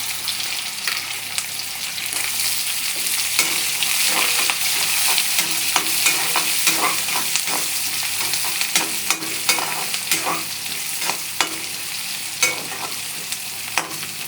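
Garlic, ginger and onion sauté in a hot pan for a dry-ginger spicy kuzhambu, a steady close sizzle with scrapes and stirring clicks throughout.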